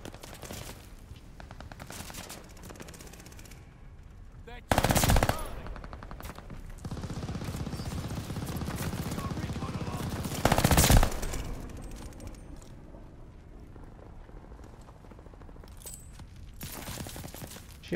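An Armaguerra 43 submachine gun fires in Call of Duty Vanguard, with two loud, close bursts of rapid automatic fire standing out over a steady background of game noise.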